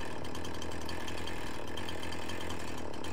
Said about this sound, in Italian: Iniziamo con la motosega.